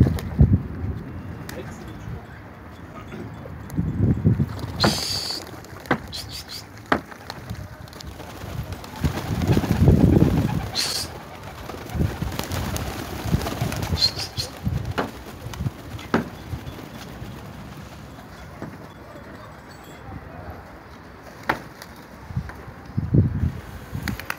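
Pigeons in a coop during cleaning, with soft cooing and bursts of wing flapping near the microphone, some wind noise and light movement sounds throughout.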